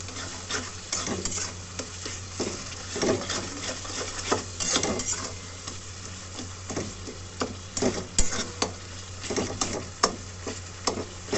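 Masala is stirred and fried in a pan before chicken goes in for murg pulao, with a continuous sizzle and repeated scraping strokes of a spoon close by.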